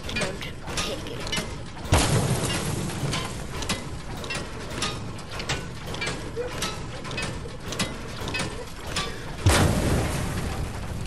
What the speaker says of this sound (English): I was knocked out by an explosion.